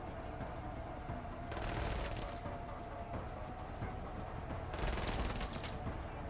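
Rapid gunfire in the video game Menace, two dense bursts of crackling shots over a steady rumbling battle backdrop, heard at a distance and fairly faint.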